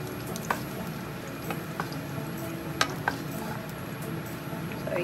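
Bacon being lifted out of a frying pan, giving a steady low sizzle with occasional small clicks and taps of a utensil against the pan, close and fairly quiet, with no talk.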